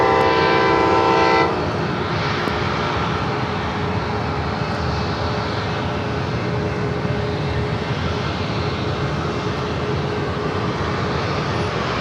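Trains roll past near San Diego airport in a loud, continuous rumble and rush lasting throughout, with a brief horn-like tone at the start.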